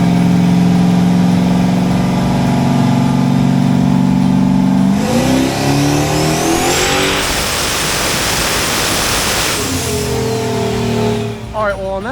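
Project Red Dragon's roughly 740 hp car engine idles, then screams through a full-throttle dyno pull, rising to a loud sustained roar before dropping back near the end, close and powerful, with brief voices around it.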